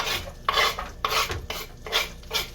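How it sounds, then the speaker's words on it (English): Onions, oregano leaves and salt go into melted butter for deep dish pizza, and are stirred and scraped in bursts of rough, rasping sizzle against the pan, close-up with no voices. "I'm going to add my onions, oregano leaves, and salt"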